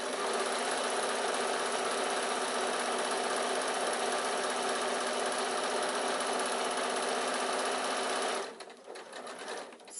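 A sewing machine stitches fabric for a baby bag in a loud, continuous, even whir for about eight seconds, then stops abruptly, leaving faint shuffling and handling noise.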